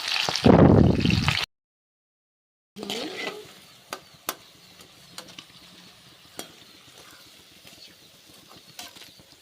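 Pakoda fritters fry in hot oil, a soft continuous sizzle with sporadic sharp pops and ticks, close and alone after a brief loud burst and a moment of silence.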